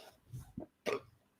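A short, faint burp after downing a round of four shots, a brief throaty gulp followed by one louder belch, alone with no talk.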